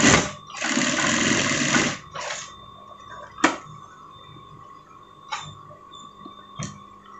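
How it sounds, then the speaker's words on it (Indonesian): A sewing machine runs in a short, loud burst of close stitching on a Doraemon-style pocket for a sweater jacket, followed by a few sharp clicks and taps in a quiet room. "Lalu kita jahit biar posisinya diam."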